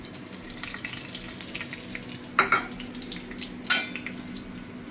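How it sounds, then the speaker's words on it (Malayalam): Cashew nuts fry in hot ghee for payasam, a soft continuous sizzle broken by two sharp bursts of spattering or pan clatter. "ഇതിലേക്ക് നെയ് ചൂടാക്കിയത് കുറച്ച് അണ്ടിപ്പരിപ്പ് ഇട്ട് കൊടുക്കാം"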